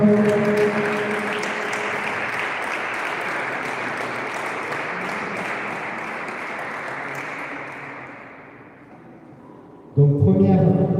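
A crowd at a French sports tournament claps for two players before a semi-final, a broad sustained wash of applause that fades out near the end before speech and background music abruptly resume.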